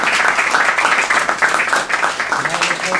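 Audience applause for guest speaker Emily, a dense, steady patter of many hands clapping at close range for about three seconds, with faint voices mixed in.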